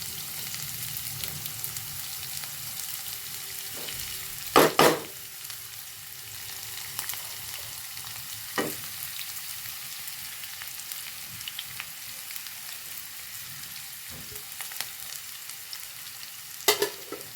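Onion frying in a pan for a Malayalam-style moringa leaf upperi, a steady low sizzle running throughout with a few sharp scraping stirs of a spoon, close and moderately quiet, no voices.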